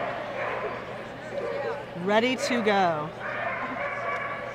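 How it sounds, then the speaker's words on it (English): A golden retriever named Snap barks loudly at an AKC National Agility Championship finals run, a burst of sharp, yelping barks in the middle of the clip over crowd noise, with a person talking nearby. "That is a loud golden retriever."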